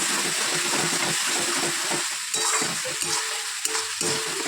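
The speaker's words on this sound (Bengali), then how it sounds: "মশলাটা ভাজছি দেখো পেঁয়াজ টমেটো আদা রসুন সব দিয়ে দিয়েছি" Onion, tomato, ginger and garlic masala fries in oil in a pan, giving a steady close sizzle with scraping stir strokes and occasional sharper clinks throughout, with no talk.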